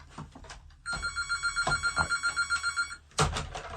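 A telephone rings for a call-in to a podcast, a loud, steady burst of rapid electronic trill pulses lasting about two seconds, alone, then a clatter as the handset is picked up.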